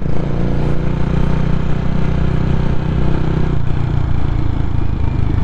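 A CCM Flat Tracker Classic motorcycle engine runs close and loud with a steady throbbing idle, and its tone shifts partway through.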